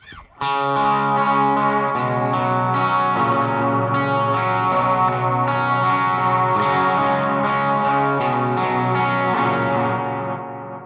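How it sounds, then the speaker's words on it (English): Electric guitar chords ring out steadily through an analog delay pedal with modulation engaged, giving a shimmering, repeating wash that sustains for about ten seconds before fading slightly, no voices present. "add modulation, it sounds really good."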